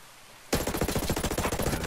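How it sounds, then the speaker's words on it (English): Sustained enemy automatic gunfire in Ghost Recon Breakpoint cuts in abruptly after a brief hush and becomes a rapid, loud, evenly spaced burst of shots. "Hostiles are shooting."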